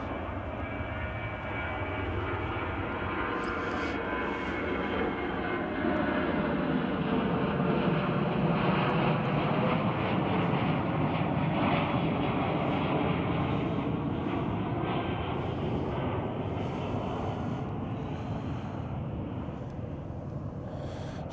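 A United Airlines jet bound for Reno climbs out of Chicago O'Hare, its engines a steady, broad roar that holds loud and even throughout, with a slowly shifting whine as it gains altitude.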